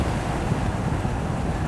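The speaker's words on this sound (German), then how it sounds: "es ist halt deutlich mehr Wind" Wind roars and buffets steadily past the microphone while driving a 2017 Mercedes-Benz S 500 Cabriolet (A217) with the windows down, a loud, constant rushing noise with no talk.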